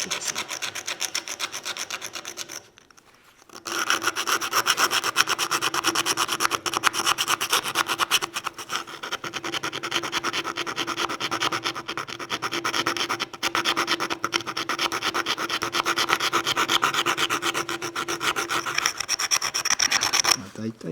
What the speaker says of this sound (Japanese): こういった棒やすりもうこういうのでいいんで、ここをこう削って滑らかにしましょうかね